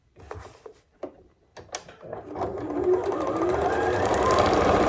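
After a few handling knocks and taps, a sewing machine starts up and runs in a steady, fast whir while stitching scrap fabric strips, close and loud with no speech.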